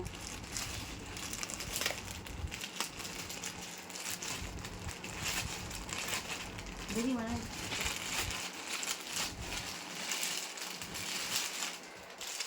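A parcel holding a bed sheet with a papaya-leaf design is torn open at home, with steady close crinkling and rustling of plastic packaging throughout, while someone talks over it.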